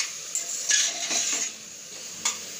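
Grated carrots for carrot halwa being stirred with ghee in a pan, a soft scraping and light sizzle with a few louder spoon strokes against the pan, close and alone.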